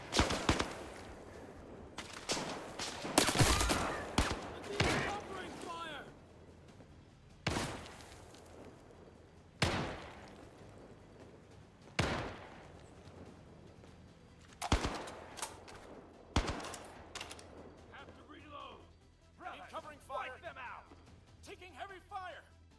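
Sharp gunshots ring out in the VR shooter Zero Caliber, scattered single cracks and short bursts spread irregularly, some loud and close, others fainter, over a quiet background with voices heard at times.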